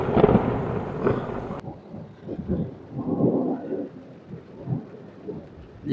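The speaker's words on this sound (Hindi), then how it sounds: "ये बादल गरज रहे हैं इंतहाई तेज़ किस्म के" A heavy rainstorm in Tharparkar sends deep, rolling thunder booming in repeated swells over a steady hiss of falling rain, with loud cracks early on that give way to softer rumbles.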